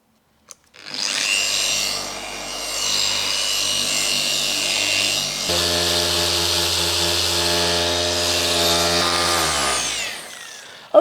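Machine polishing of a BMW's lacquered car paint with 3M body shop compound: a steady whirring motor hum with a tonal whine runs close and constant for about ten seconds, then winds down.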